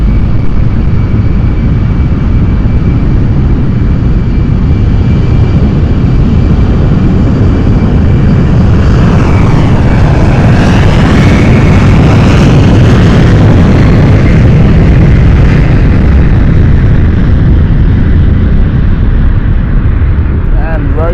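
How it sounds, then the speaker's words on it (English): The jet engines of an Embraer 190 roar on takeoff at London City Airport, a loud, dense, continuous rumble with a rising whine that swells and sweeps past midway, with someone talking faintly beneath it. "Listen to those engines."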